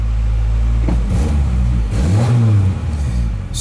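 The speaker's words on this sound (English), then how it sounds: "Oh, it starts." A 1994 Ford Ranger with 184,000 miles, found abandoned in a barn, runs roughly on a cold start. The engine rumbles close by and briefly revs up in pitch before easing back.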